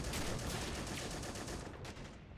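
Steady rapid gunfire from M1 Garand rifles and a .30 cal machine gun in a Battle of the Bulge video game, a dense, continuous rattle of shots that stays loud throughout with no voices.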